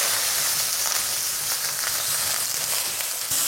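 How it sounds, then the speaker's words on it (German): Sliced button mushrooms sizzle and hiss loudly and steadily in a hot frying pan as they are tossed, with a dense, continuous crackle and no pauses. "Dann die Champignons einmal durchschwenken."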